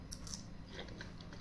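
Close crunchy biting and chewing of a homemade spicy egg-shaped snack, a few crisp crunches over steady mouth noise, with no talking.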